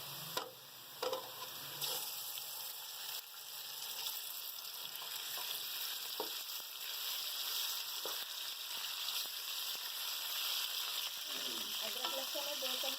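Minced meat sizzles steadily in a hot pan while a Qeema Matar is cooked, a continuous close frying hiss with a few stirring clatters and scrapes along the way.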